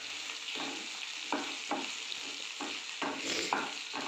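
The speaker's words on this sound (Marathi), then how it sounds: "आता आपण त्यात हळद आणि तिखट टाकून घेऊया आणि छान त्याला परत एकदा परतून घेऊया." Softened okra fries in a pan with turmeric and chili powder, a steady sizzle broken by repeated scraping stirs of a spoon, close and moderately loud, with no talking.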